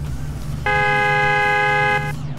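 A single flat, buzzy electronic car horn blast in Need for Speed Most Wanted sounds for just over a second over a low engine hum, then cuts off.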